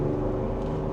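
A 2025 Ford Ranger Raptor pickup truck engine accelerates from second gear, giving a steady, deep, droning grunt heard close and continuous from inside the cab, without speech.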